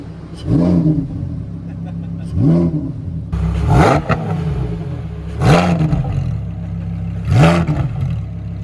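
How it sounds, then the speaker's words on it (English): A new Porsche's engine is started and revved in repeated bursts, five sharp rising-and-falling revs spaced a second or two apart over a steady idle, loud and close. "I just started up and revved it"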